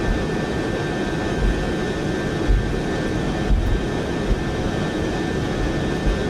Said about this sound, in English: that takeoff roll is definitely longer than our last sector